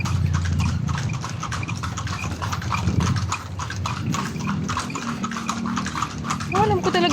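Steady clip-clop of a horse's hooves pulling a kalesa carriage through the heritage streets of Vigan, close and rhythmic, with people talking over the hoofbeats.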